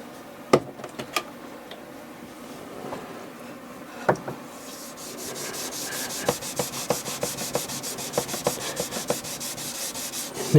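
Scrubbing a boat's metal seacock fitting with Cif abrasive cream: a few sharp knocks, then steady rapid rubbing strokes building into a continuous scouring rasp, close and alone.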